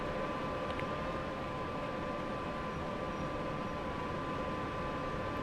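A Class 86/2 electric locomotive runs steadily in Train Sim World, with a constant rumbling rail roar and a faint electric hum, even and unbroken throughout, no voices.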